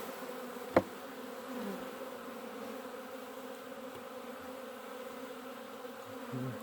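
Bees buzz steadily around an opened hive on a cold late-February day in Wisconsin, a continuous close hum that holds at an even level throughout, with one sharp tap early on.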